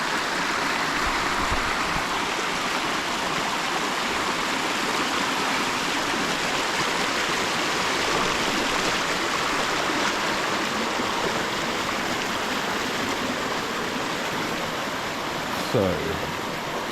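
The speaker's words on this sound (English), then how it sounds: "Beautiful stream. Probably very noisy on camera," Stream water rushes steadily across a small valley creek at an old gold mine site in New Zealand, a continuous broadband wash close by, with a brief voice near the end.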